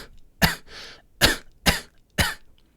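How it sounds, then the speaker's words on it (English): Four sharp, breathy coughs in close succession, produced as a devoiced cough with little to no vocal tone, plus a soft exhaled rasp between the first two. "some other people cough with a devoiced sound"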